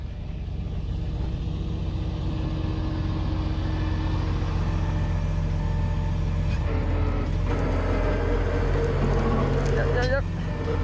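A truck engine runs steadily in a field, straining to pull a buried flatbed free, its low rumble loud and continuous with a brief rise in revs near the end, voices talking over it.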